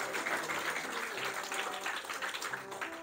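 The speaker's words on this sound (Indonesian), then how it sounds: "Tepuk tangan bagi Yesus." A church congregation claps for Jesus during a sermon, a faint, distant, continuous patter of applause with no voices over it.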